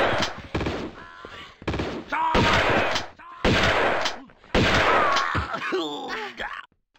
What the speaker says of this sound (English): Shotgun's good fun.